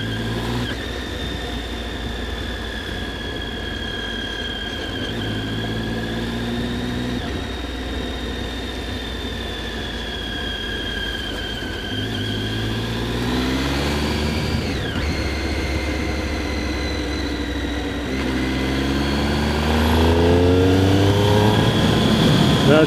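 A Triumph Street Triple 675 motorcycle's three-cylinder engine runs on the road, its tone rising and falling through gear changes, with wind noise under a steady, fairly close drone.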